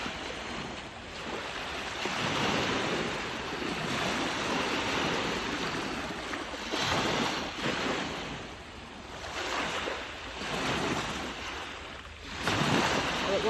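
Ocean waves break and wash continuously along West Beach in Port Hope, a steady close roar of surf with a few rising surges and light wind noise, no talking.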